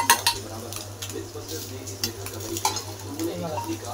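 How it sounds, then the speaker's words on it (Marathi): Onion-garlic masala, biryani masala and red chilli are sautéed in a pan for egg biryani. A busy sizzle runs under repeated spoon scrapes and light metallic clinks as the mixture is stirred. "कांदा लसूण मसाला, बिर्याणी मसाला आणि लाल तिखट आपण याच्यात टाकून परतून घेऊ चांगलं"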